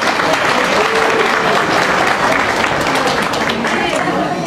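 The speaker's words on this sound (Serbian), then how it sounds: "Ajmo jedan aplauz za našu Šidu." Sustained applause fills a humanitarian concert hall, a dense steady wash of many hands clapping for the full stretch, loud and close, with a bit of crowd murmur mixed in.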